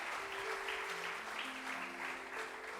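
A church congregation applauds the Lord at a Sunday morning service in Bragança Paulista, with dense, sustained clapping throughout and some held sung or organ-like tones underneath.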